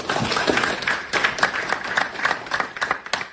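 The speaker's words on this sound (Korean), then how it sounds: "박수 부탁드립니다" An audience at a Gwangju parliamentary candidacy announcement gives a short burst of brisk, fairly close hand clapping that continues unevenly throughout.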